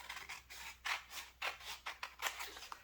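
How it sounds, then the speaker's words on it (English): Scissors snip through small plastic diamond painting drill bags, about seven or eight crisp, close cuts in an uneven rhythm in a quiet room. "I cut these off"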